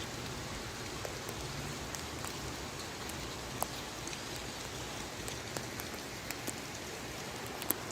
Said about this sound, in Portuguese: Ô, chuvinha boa. Gravando na chuva.